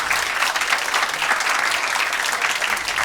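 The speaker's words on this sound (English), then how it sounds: "if you could stop clapping" Loud, dense applause from a comedy club audience fills the room continuously, close and sustained, with faint crowd noise mixed in.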